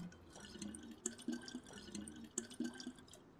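Water trickling and dripping as a bottle is refilled in the survival game DayZ, a soft splashing stream with brief sharper drips, fairly close and quiet, with no talk.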